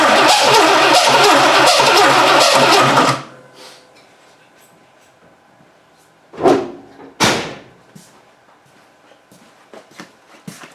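A Dodge Dart engine starts after ten years in storage. It churns loudly for about three seconds, then cuts off, followed by two sharp knocks and a few softer clicks in near quiet.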